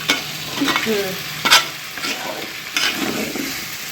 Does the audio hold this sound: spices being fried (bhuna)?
yes